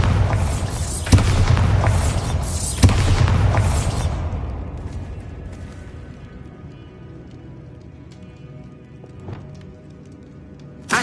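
A Bombarda blasting spell detonates in the Hogwarts Legacy video game, a heavy boom with sharp impacts in the opening seconds that rumbles and fades into a long quiet tail, with a faint later thump and a sharp hit at the end.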